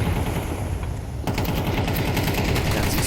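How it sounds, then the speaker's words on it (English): Tech-9 pistol fire in a Counter-Strike match, rapid repeated gunshots in quick bursts, dense and loud, continuing after a sharp onset, with crowd or match noise beneath. "The Tech 9 shots were not too far off the mark."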